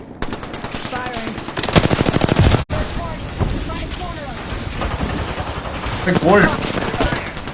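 Rapid bursts of automatic gunfire crackle loud and close in the video game Apex Legends, a dense stuttering volley cut off by a brief gap, then more shots under excited voices of players talking.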